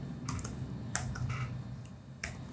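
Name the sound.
typing C code on a computer keyboard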